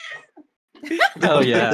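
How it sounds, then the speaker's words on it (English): A pet cat meows during a livestream session, a short vocal call near the microphone with a person talking briefly alongside it. "when my cat meows"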